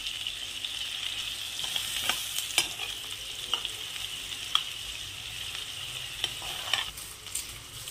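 Chopped onion and crushed garlic sautéing in a pan until lightly reddened, a continuous bright sizzle with scattered scraping stirs and small clicks of the spatula.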